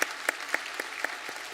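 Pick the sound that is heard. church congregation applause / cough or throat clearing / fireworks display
church congregation applause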